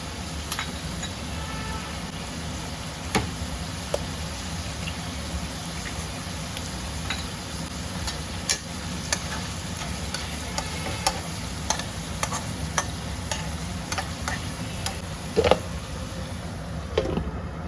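Two eggs cracked into the middle of frying masala in a pan sizzle in a constant close hiss, broken by frequent sharp clicks and taps of a spatula against the pan, with no talking.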